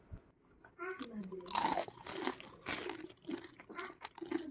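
Close crunchy bites and chewing of crispy fried field frog, crackling bursts interspersed with brief talk.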